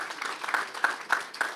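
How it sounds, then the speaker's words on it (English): Scattered applause at a press conference, thin and fairly quiet, with a few sharper individual claps standing out at regular intervals over a soft background of clapping. "One more round of applause, please, for President Mike Succo."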